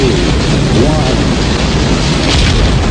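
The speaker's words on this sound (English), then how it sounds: "Ignition sequence start." Falcon 9 rocket engines igniting at a SpaceX launch produce a loud, continuous broadband roar with heavy low rumble that holds steady throughout.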